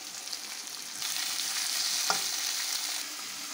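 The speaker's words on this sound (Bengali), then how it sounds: "কাঁচা লঙ্কা কুচি, হালকা ভাজা হয়ে গেছে, এখন দিয়ে দেবো টমেটো কুচি।" Chopped green chilli and capsicum sizzle steadily in a hot pan, a close, continuous frying hiss with a brief soft clunk of stirring partway through.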